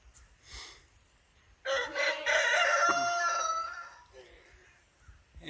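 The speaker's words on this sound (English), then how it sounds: "the roosters are letting us know what time it is" A rooster on a farm crows loudly in the morning, one long close call rising and trailing off, with quieter clucking and faint fowl sounds before and after.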